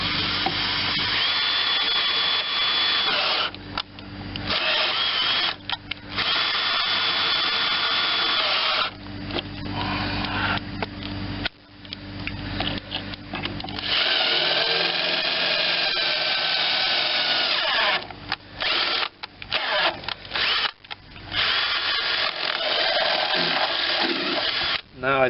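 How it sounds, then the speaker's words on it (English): A power drill whirs close by in long, loud bursts while working on a Vermeer BC625A machine, stopping and restarting several times with short gaps between runs. "I was using the drill to try to tap on the first one"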